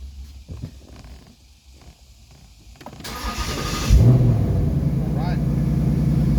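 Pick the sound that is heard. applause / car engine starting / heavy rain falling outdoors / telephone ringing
car engine starting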